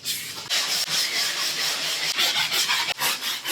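Finishing plaster being hand-sanded with a sanding block, a steady close scraping rub in continuous strokes with brief breaks between passes, no voices.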